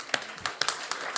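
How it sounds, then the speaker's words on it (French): A few people at a conference clap in a sparse, irregular patter of distinct individual claps, quiet and close, with no talking over them. "on peut l'applaudir peut-être"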